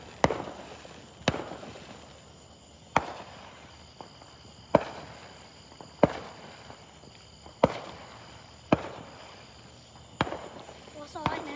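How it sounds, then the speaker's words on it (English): Fireworks bursting outdoors on the Fourth of July: sharp, loud pops at a steady pace of about one every one to two seconds, each trailing off in a crackle, with people chatting and insects buzzing faintly in between. "They're shooting ring fireworks."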